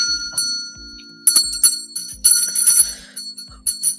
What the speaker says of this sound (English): You can have the bell.